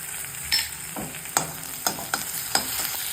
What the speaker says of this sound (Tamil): இஞ்சி பூண்டு பேஸ்ட் போட்டுக்குவோம்.